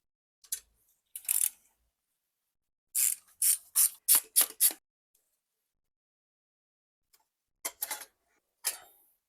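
Short bursts of crisp ratchet clicking come from loosening two nuts on the high-pressure fuel pump crossover line of a BMW N63 V8 in a 750i. The clicks arrive in clusters, close and clear, separated by silence.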